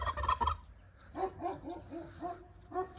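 A turkey gobbles in several quick warbling bursts, fairly close, with geese, ducks and chickens calling around it outdoors.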